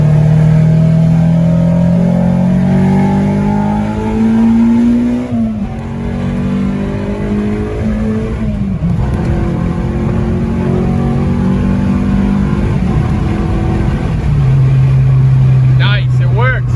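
A Honda K24/K20-swapped seventh-generation car pulls hard on a highway, its engine note climbing steadily in pitch, dropping briefly at gear changes, then rising again, loud and continuous with people talking over it inside the cabin.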